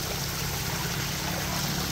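Floodwater after heavy rain runs steadily into a house, a continuous close rushing and trickling wash with no pauses and no voices.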